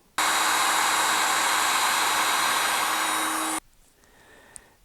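A heat gun blows a steady, loud whooshing roar onto heat shrink tubing over rebuilt vehicle wiring, running about three seconds before cutting off abruptly into quiet.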